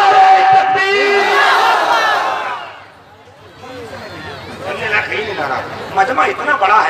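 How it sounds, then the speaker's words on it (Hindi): A large crowd at a religious gathering with a comedic host shouts slogans together in loud, sustained unison, fading to a brief lull before rising again in rougher, ragged bursts. "पूरे तेवर के साथ नारा लगाओ"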